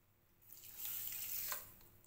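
Three-quarter cup of water poured from a container into sugar to make syrup for chana dal modak, a short, close splashing stream that swells and then tapers off over about two seconds.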